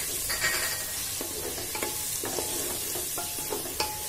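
Green chillies fry in hot oil in a pan for a moonlight-style moong dal khichdi, giving a steady close sizzle with repeated light scraping strokes of a spoon roughly every half second.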